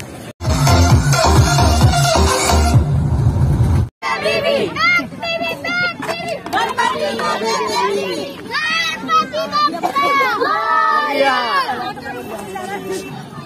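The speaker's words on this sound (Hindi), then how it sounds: "यहाँ पर इतनी सारी भीड़ है" At a riverbank during a Ganesh immersion in Ahmedabad, a loud crowd chatters and shouts, with children's voices prominent in the busy, overlapping babble.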